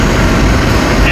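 Two-door Chevrolet Tahoe driving in 4 low on snow and ice at about 20 mph with the engine held near 1500 RPM, giving a steady, loud low rumble and broadband road noise without a break.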